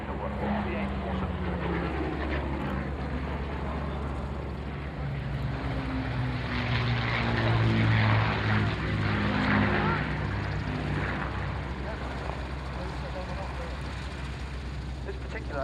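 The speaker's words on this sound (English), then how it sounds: "They're also coming in from the left, one of only 2 airworthy Lancasters in the world" A four-engined Avro Lancaster bomber, one of only two still airworthy, flies past at the Royal International Air Tattoo airshow, its steady propeller-engine drone swelling toward the middle of the pass over a continuous background.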